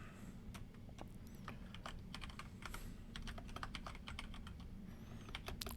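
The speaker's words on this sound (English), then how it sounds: "You guys get to watch me type again" Quiet, close typing on a computer keyboard, irregular bursts of key clicks over a low steady background hum.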